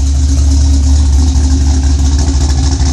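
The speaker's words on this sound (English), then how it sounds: "Love that exhaust sound." A 2005 Ford Mustang GT with a Comp Cams Mutha Thumpr cam, a changed intake and no catalytic converters idles roughly. Its loud, close exhaust holds a deep, steady, lumpy rumble throughout.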